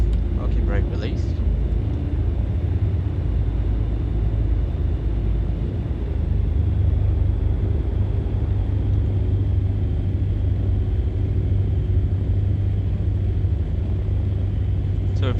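Small propeller airplane taxiing after brake release, a steady low engine rumble and drone close by, continuous and loud with little change.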